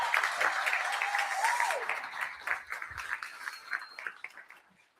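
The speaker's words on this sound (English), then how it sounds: "So hey, big round of applause." Audience applause at a live real estate investors' meeting in Omaha, a dense sustained clapping that fills the room, then thins out and fades toward the end.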